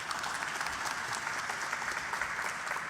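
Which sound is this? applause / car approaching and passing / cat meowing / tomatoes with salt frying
applause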